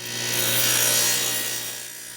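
A radial arm saw runs a single short test cut through wood on a corner spline sled, a loud sustained whine with a grinding bite that swells and then eases off.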